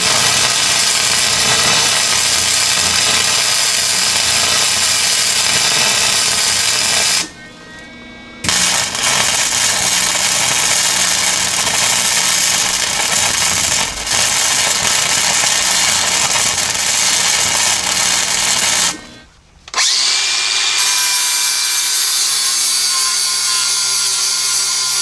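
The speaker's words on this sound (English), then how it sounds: "I got that all welded up and ground down." Flap disc grinder working a welded bracket on a Jeep XJ, a loud, steady, high-pitched grinding whine that runs close and continuous, breaking off twice for short pauses before starting again.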